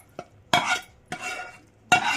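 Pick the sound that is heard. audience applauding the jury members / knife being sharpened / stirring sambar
stirring sambar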